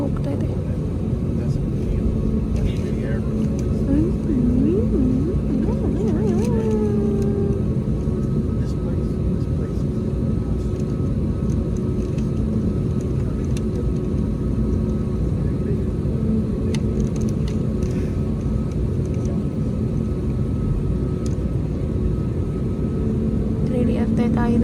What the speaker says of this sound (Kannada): ಒಂದು ಫ್ಲೈಟ್ ಹೋಗ್ತಾ ಇದೆ,